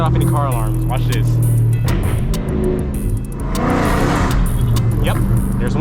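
A 1000-horsepower Dodge Hellcat Redeye engine revs hard and loud, close by, swelling and dropping in roaring bursts with a brief dip midway, while someone talks over it.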